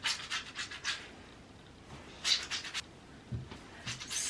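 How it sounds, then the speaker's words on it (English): Wet curly hair coated in gel is scrunched by hand, giving short soft squelching, rubbing bursts in a loose repeating rhythm, close and quiet, with pauses between squeezes and no talking. "I ran my hands under water to get them wet, and so the gel like distributes in my hands. And I'm just gonna start scrunching my hair"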